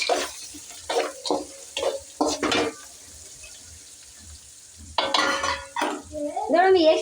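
Onions fry in a pan with peanuts and roasted gram, stirred in scraping, sizzling bursts that pause and then return. A voice is heard briefly near the end.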